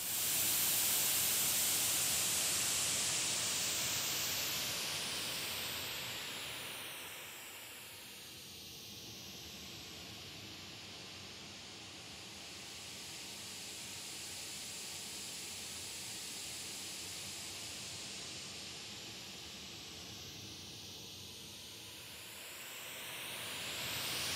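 Steady hiss of white noise from a moving loudspeaker throughout, shifting slightly in tone as the speaker moves, with no voices.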